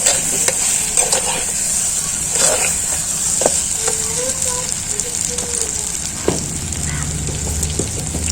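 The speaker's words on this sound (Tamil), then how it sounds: "இப்போ கத்திரிக்காய் போட்டு நல்லா கிளறி விட்டுறாங்க" Whole eggplant cut into quarters is frying and being stirred in a pan: a close, steady sizzle broken by repeated scraping and knocking of the spoon, and no one speaks.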